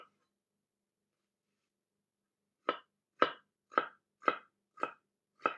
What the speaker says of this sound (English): I am still finely chopping them because I just want to make sure that there are no big chunks of onion in my burger